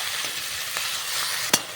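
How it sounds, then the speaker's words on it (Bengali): Spice paste with chopped capsicum sizzles and fries in a pan while a spoon stirs it, ending with one sharp scrape against the metal. "যে ভালো করে মশলাটা আবার নাড়িয়ে আমি ভেজে নেব"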